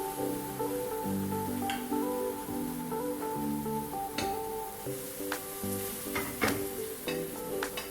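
Banana pancake batter sizzles steadily in a pan over medium-high heat, a close, continuous fry with occasional spatula scrapes and taps and no talking.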